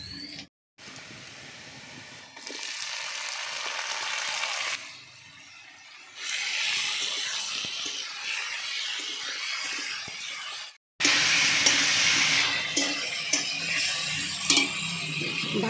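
Kuchia fish (swamp eel) sizzles in a hot pan in several bursts separated by short quiet gaps, with a loud hiss resuming near the end.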